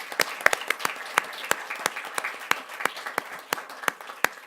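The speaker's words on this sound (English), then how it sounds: "Let's give him a round of applause for this." Applause rises at a Fort Worth school board meeting, with scattered, distinct hand claps from a modest crowd in the room, fairly steady and moderately loud for several seconds.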